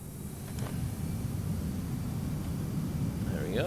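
A simulated aircraft, the DeimosInc G39 Griffin, rolls for takeoff in Microsoft Flight Simulator, a steady broadband engine roar filling the background throughout with a faint voice beneath it.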